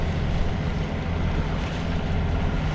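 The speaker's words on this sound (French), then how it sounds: "finalement c'est au moteur hein, que je le fais parce que j'ai plus du tout de vent là" A sailboat moves under engine power on the sea off Greece's Euboea coast in calm, windless conditions, producing a steady low drone mixed with broad wash and wind rumble, continuous and fairly loud throughout.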